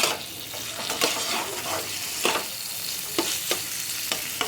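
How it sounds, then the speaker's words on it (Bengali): Chicken is stirred in a pan with salt, turmeric and chili powder for chicken chops. A close, crackling sizzle is broken by repeated spoon scrapes and clinks at an uneven rhythm, with no voices. "তো এটাকে আমি এবারে ভালো করে এর সঙ্গে আমি মিশিয়ে নেব।"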